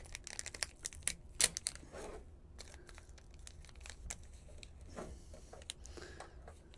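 A small plastic bag holding an M.2 SSD heatsink is opened by hand, giving close crinkling and rustling with sharp crackles and tearing bursts, then quieter intermittent handling rustles.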